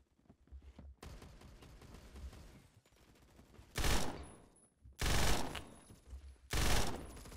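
In the video game Phantom Forces, a gun fires in short controlled tap bursts, loud and close, over a steady busy background of battle noise, with no talking.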